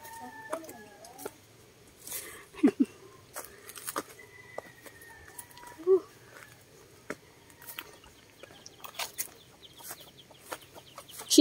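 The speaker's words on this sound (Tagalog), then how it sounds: "Chickens, there's chickens. Some hens there." Chickens and hens cluck in short, scattered calls on a mountain farm in the countryside, heard at moderate distance amid rustling and faint background noise.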